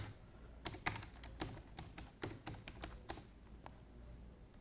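Quiet, irregular clicking of keys on a computer keyboard as a password is typed in, a quick run of light taps and a few firmer presses, close by with no talking.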